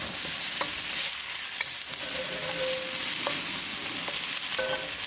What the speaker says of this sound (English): We're going to saute onion until they are nicely translucent. So keep it moving and keep cooking.